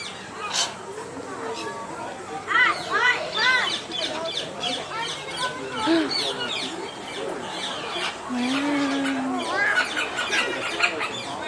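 Birds in an outdoor bird garden at a parrot attraction in the Smoky Mountains give repeated squawks, clucks and chirps at close to mid range, with people talking throughout.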